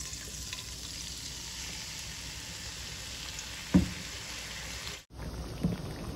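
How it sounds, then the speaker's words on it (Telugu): Chicken fries in hot oil in a kadai with a steady, close hiss of sizzling, one brief louder clatter partway through and a momentary dropout near the end. "నేను ఈ చికెన్ అయితే వేసేస్తున్నాను కొంచెం ఆయిల్ హీట్ ఎక్కాక."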